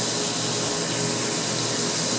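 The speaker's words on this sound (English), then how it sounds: "That's coolant, it's water, and then specific kind of stuff." Water-based coolant sprays in a steady, dense hiss onto metal as carbide tooling cuts parts for a rifle, close and continuous, with a faint machine hum underneath and no talk.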